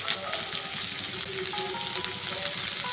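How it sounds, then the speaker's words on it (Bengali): Cauliflower and potatoes fry in a pan with a dense, even sizzle up close, light stirring clicks and scrapes running through it. "একটু নেড়ে ছেড়ে ফুলকপি আলুটাকে ভেজে নিয়েছি।"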